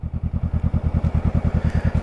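A Honda Rebel 500 motorcycle ridden along, its engine thumping in a fast, steady low pulse close by with a faint rattle over the top.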